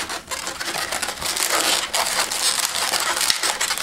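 Latex balloons squeaking and rubbing as a long 160 modelling balloon is twisted and its end tied off on a balloon motorcycle sculpture, a dense, close, continuous crinkly squeal with no talk.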